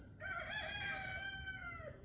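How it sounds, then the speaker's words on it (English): A backyard rooster crows once, a clear drawn-out cock-a-doodle-doo heard at a moderate distance, with faint ambient background and no talk. "there's my chickens. There they are."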